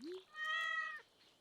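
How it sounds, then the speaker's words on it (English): A cat meows twice in Stardew Valley, a quick short chirp followed by a longer, clear, tonal meow, fairly quiet with nothing else around it. "That cat meowed twice?"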